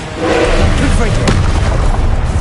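A Confringo spell explosion from the Hogwarts Legacy video game makes a loud, rumbling boom that fills the clip, mixed with spell and combat sound effects.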